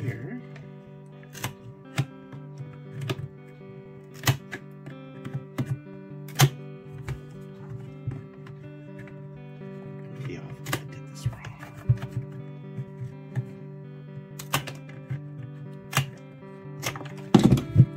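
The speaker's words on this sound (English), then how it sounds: "I turn my basket this way and I start cutting" Scissors snip through woven tissue-basket material in sharp, irregular clicks spread across the clip, with a person talking steadily underneath.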